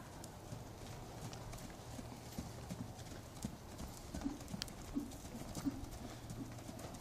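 Horse hooves clip-clop in a steady rhythmic beat as a horse is ridden at trot and canter, moderately near, with occasional faint bird calls and soft speech in the background.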